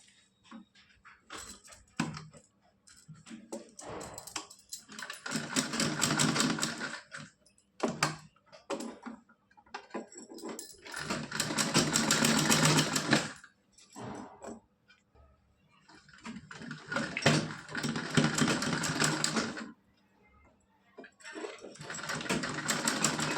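A sewing machine stitches a small kurta and dhoti outfit for a Laddu Gopal doll, running in four long, steady whirring bursts with brief stops and handling noise between them.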